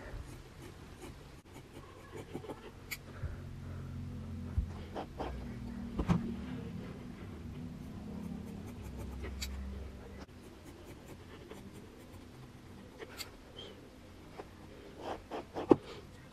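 Scissors snipping macrame cord ends into a V shape on a rear view mirror charm, producing scattered quiet cuts and rustling handling noises spread across a long, fairly close stretch.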